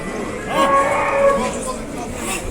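Cattle low in drawn-out, overlapping moos, fairly close, with a busy open-air murmur underneath at a livestock market in Osh.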